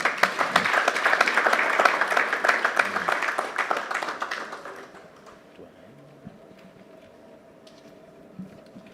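Hall applause at a tax justice conference opening, a full burst of clapping that thins out and dies away after about five seconds, leaving quiet room noise and a few stray claps.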